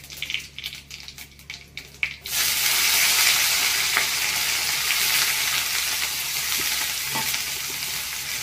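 Chopped onions frying in a pan: after about two seconds of quieter scraping and rustling, a loud, steady sizzle takes over and stays close and continuous, with a few faint clinks and no voices.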